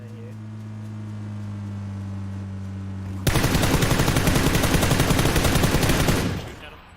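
Rapid automatic gunfire in the battle royale game PUBG bursts in abruptly and rattles on for about three seconds before cutting off, following a stretch of steady engine-like hum and faint talk.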